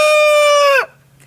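A rooster from a backyard flock of thirteen hens and two roosters gives one loud, close crow that holds steady and then cuts off sharply, leaving a faint background hum.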